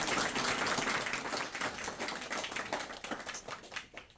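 Attendees at an AI tools training workshop clap for themselves, a modest round of applause that starts fairly full and gradually thins into scattered claps as it fades.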